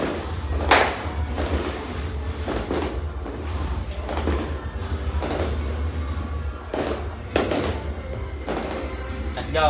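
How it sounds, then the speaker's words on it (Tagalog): New Year fireworks burst overhead in a series of sharp, scattered bangs and thumps over a steady low rumble, while people talk nearby. "Paputok sa taas eh."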